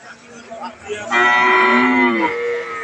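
A first-calf Holstein Friesian dairy cow at a cattle market moos once in a long, loud, drawn-out low call that rises out of quieter market noise.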